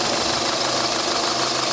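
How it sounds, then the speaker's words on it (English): A 2007 Peugeot 207 1.4-litre 16-valve petrol engine idles steadily and smoothly, a constant low hum with a faint regular knock, close by and alone. "Oh, listen how quiet that engine is."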